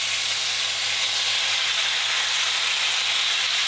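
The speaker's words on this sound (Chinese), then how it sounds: "将腌好的五花肉丁倒进锅里" Marinated diced pork belly hits hot oil in a preheated wok over high heat, giving a loud, steady, close sizzle with constant hiss and crackle and no voices.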